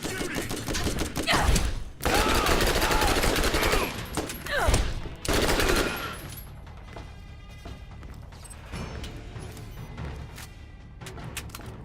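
Weapons firing in the shooter game Borderlands: loud bursts of gunfire with heavy impacts and crashes in the first half, then quieter scattered shots and mechanical clatter toward the end.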